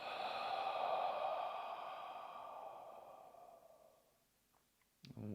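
A long, deep exhale through the mouth during a guided meditation, close and breathy, fading out over about four seconds into near silence before a brief rustle at the end.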